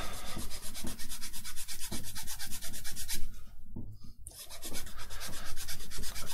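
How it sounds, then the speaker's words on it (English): A file rasping a nut on a cardboard Darth Vader helmet, with quick, regular back-and-forth strokes close up, a short pause midway, then the strokes resume. "now I will file the second nut."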